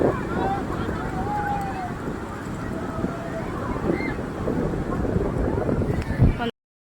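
Sea waves and strong wind at a beach in Puri, heard as a steady loud roar with wind buffeting the microphone and surf washing underneath, running continuously before cutting off abruptly.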